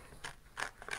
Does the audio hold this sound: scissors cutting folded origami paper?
yes